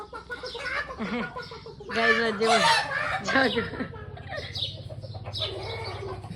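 Chickens clucking close by at a place being visited, short repeated clucks heard under ongoing talk.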